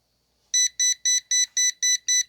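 Kaiweets brake fluid tester pen sounding its alarm: eight evenly spaced, loud electronic beeps in a steady rhythm, close and clear, with no voices.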